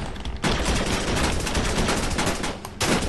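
Shotgun and other gunfire in a fast-paced video game, continuous loud shooting with a sharp break about a third of a second in and another near the end.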